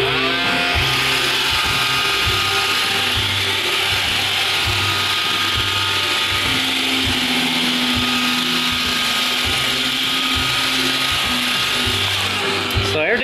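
An iRobot Roomba 560 robot vacuum running, a continuous close whirring motor hum with pulsing low rhythmic thumps throughout.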